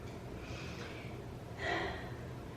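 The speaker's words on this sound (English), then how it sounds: "Take a couple breaths here in your warrior 2." Slow breaths held in a yoga warrior 2 pose, two soft airy exhales close to the microphone, the second slightly louder, over a quiet room hiss.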